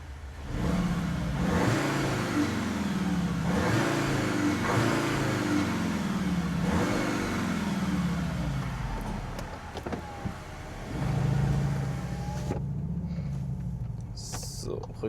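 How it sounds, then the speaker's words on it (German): Cupra Formentor VZ with 310 hp running its engine sound generator inside a tunnel, a steady mid-pitched engine drone that rises and falls with throttle, heard from the cabin with a voice speaking over it. "ihr hört sicherlich auch schon den Soundgenerator hier"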